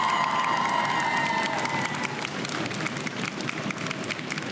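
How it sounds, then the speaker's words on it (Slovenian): A studio audience at a Slovenian school quiz show claps and cheers for a team, a fairly quiet, dense spatter of many hands with a lingering tone fading in the first seconds. "En aplavz!"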